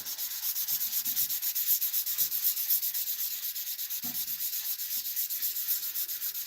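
Rhythmic back-and-forth sanding rubs away stain runs on a wooden surface, a steady close scraping with a regular stroke pulse.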